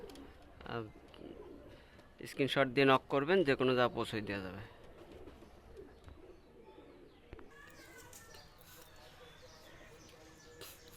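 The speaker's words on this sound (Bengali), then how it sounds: "দুইটা কবুতর" Pigeons, including a golden running pigeon, give a burst of loud, close cooing calls for a couple of seconds amid Bengali speech, then fade behind continued talking.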